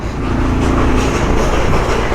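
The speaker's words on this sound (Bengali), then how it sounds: "ওপরে টয় ট্রেন চলছে দেখো" Darjeeling's steam-hauled toy train running near Ghum station, heard as a loud, continuous rail rumble and rattle close by that fills the whole moment without pause.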